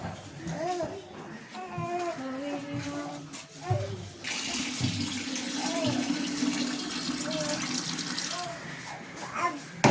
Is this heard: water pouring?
yes